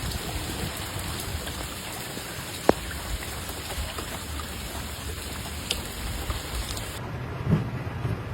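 Torrential rain pours steadily during flash flooding in central Iowa around the Des Moines metro area, a dense, constant hiss with a sharp crack near the middle and a soft low thump toward the end.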